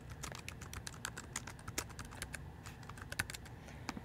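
Fast typing on a computer keyboard enters a new folder name, an even run of close, crisp key clicks with a few harder taps, and no voices.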